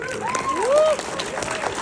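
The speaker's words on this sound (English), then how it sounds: "like the applause for that" A Friday-night cinema audience at an independent film screening and Q&A applauds, a broad, even wash of clapping with a brief whistle-like tone sliding through it.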